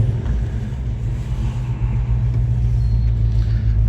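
A 1969 Dodge Charger R/T with its original 440 V8, bored 30 over, idles steadily, giving a deep, loud, continuous low rumble that holds even throughout with no voices over it.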